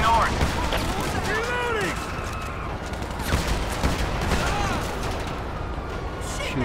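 Rapid gunfire and bursts of shots from the PC video game GTA 5 with the LSPDFR police mod, dense and continuous, with radio-style voices talking over it.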